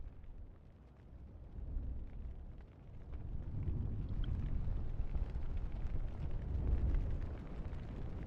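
A burning ceiling tree roars in Elden Ring: Shadow of the Erdtree, a steady low rumbling blaze with crackling texture that swells gradually and holds loud throughout.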